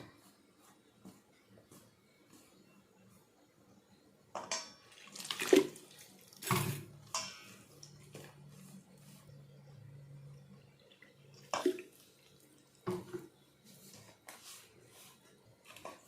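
Water splashes and trickles in short bursts as it is poured little by little into chapati flour, with wet squelching kneading sounds in between, close and fairly quiet.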